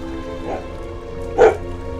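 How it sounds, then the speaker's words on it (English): A dog gives two short barks, a soft one and then a louder, nearer woof about a second later, over a faint steady background hum. "You heard my dog. He's saying a lot."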